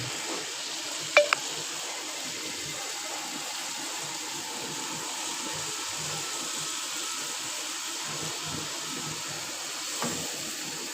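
Oil heats in a pan before chicken goes in, giving a faint, steady hiss that runs evenly throughout, with a couple of brief clicks near the start.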